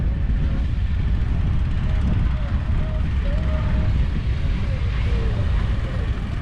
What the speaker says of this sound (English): Good Pratt & Whitney radials.